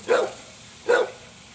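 A 4.5-month-old cattle dog puppy gives two short, sharp barks about a second apart, close and loud, with quiet in between and no talking.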